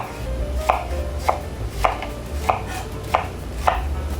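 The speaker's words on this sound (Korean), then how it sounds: "양파는 반개 좀 크게 썰을게" A knife chops an onion steadily on a cutting board, six sharp evenly spaced strikes with a low hum in the background and no voices.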